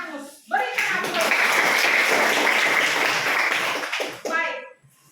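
A classroom of children bursts into applause, with dense clapping that rises quickly, holds steady for several seconds, then fades, and young voices are heard around it.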